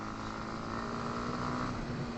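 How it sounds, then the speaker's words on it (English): A Kawasaki KLX 230 motorcycle engine runs steadily under way, a continuous broadband drone mixed with wind rush, with no talking. "This engine has nice pep"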